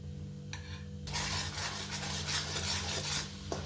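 Wheat flour being stirred into hot ghee in a pan for Gurudwara-style khada prasad halwa, a steady scraping and soft sizzling that grows busier after the first second, with faint utensil clinks and no talk.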